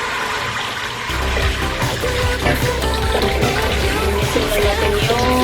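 Water running into a bathtub during household cleaning, a steady close splashing gush with some trickling and clatter, loud and continuous after a brief quieter start.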